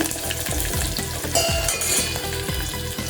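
Crushed garlic sizzles loudly in hot oil in a pan while being stirred, with steady frying crackle and a regular scraping rhythm of a spoon across the pan, no voices.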